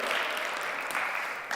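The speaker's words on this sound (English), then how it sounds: "everyone just give the youth team an epic round of applause quickly" A crowd at a church session applauds and cheers for the youth team, a brief burst of dense, loud clapping lasting under two seconds.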